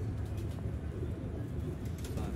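Pigeons on a rooftop loft coo in a low, throaty, continuous murmur close by, with faint background noise.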